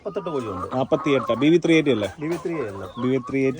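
BV 380 layer hens on a poultry farm cluck and call in quick, continuous bursts close by, filling the whole stretch, with people talking alongside.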